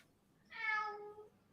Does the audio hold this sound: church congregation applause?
no